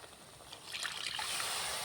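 Milk is poured into a bowl of semolina for paratha dough, a soft, steady liquid trickle that swells and grows fuller over about two seconds, faint and close with no talking.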